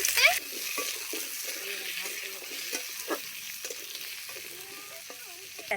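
Grated garlic, chopped onion and long-cut potato slices fry in a pan, a steady low sizzle with occasional stirring scrapes and clinks, close by, while people talk in the background.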